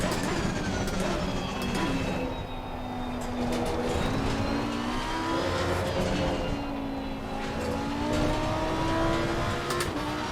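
An Italian GT race car engine in Assetto Corsa Competizione roars continuously, its pitch climbing and dropping through gear changes and corners, loud and close, with no talking.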